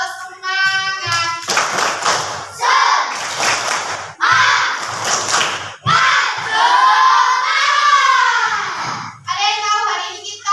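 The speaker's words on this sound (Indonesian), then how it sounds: "Tepuk semangat." A class of schoolchildren does a rhythmic spirit clap in a classroom, with bursts of sharp group hand claps alternating with loud shouted chanting voices in a lively repeating pattern.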